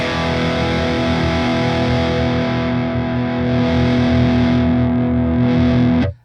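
Electric guitar run through an overdriven amp with the gain turned up, one thick sustained distorted chord ringing out steadily and loudly for about six seconds, then cut off abruptly.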